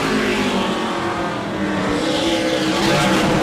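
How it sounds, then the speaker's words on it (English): Super late model race cars roar through qualifying at Auburndale Speedway, a loud, continuous engine drone close by that swells slightly near the end, with no talk over it. "Early on in this qualifying run, Steve Dorr is up to 8th."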